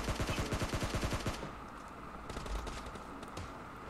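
A shooter video game fires a fast automatic burst of evenly spaced shots that stops abruptly, leaving a noisy rumbling background with faint scattered clicks. No one speaks.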